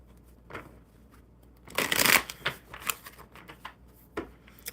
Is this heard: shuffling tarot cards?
yes